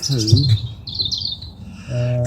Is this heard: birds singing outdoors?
yes